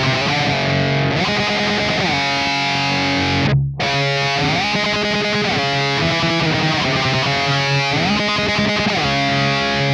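Distorted electric guitar plays a riff, with sliding notes and steady picked chords, loud and continuous, broken by one brief pause near the middle.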